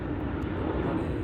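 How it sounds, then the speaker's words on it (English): An airplane passes overhead near Boise, Idaho, a loud, steady engine roar that fills the whole clip with a dense low rumble, heard alone without speech. "sorry, there's another plane."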